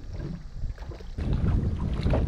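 Steady outdoor wind rumble buffeting the microphone, swelling louder halfway through, with no voices.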